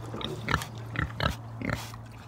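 Hogs kept near a trailer in the woods grunt and oink in a steady rhythm, four or five throaty snorts spaced about half a second apart, close by and fairly loud over a low background hum.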